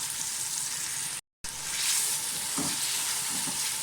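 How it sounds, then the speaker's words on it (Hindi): Tomatoes sautéing in a pressure cooker pot for chappan kaddu sabzi, a soft steady sizzle of frying with faint stirring scrapes, briefly cut out partway through. "टमाटरों की थोड़ी सी बुनाई करके साथ ही मटन डाल दें।"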